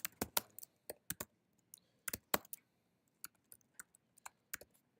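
A computer keyboard is typed on in short irregular bursts of sharp, close clicks separated by brief pauses, with no voices.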